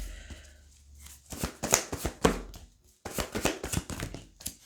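Tarot cards are shuffled by hand in short bursts of crisp riffling and tapping, close and fairly loud, with a brief pause between rounds.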